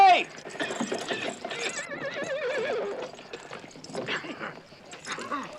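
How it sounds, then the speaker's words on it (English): A horse whinnies loudly up close, with a few more neighs and snorts scattered through, some hoof clatter and a dog-like whimper in between. "Jack, I found a horse"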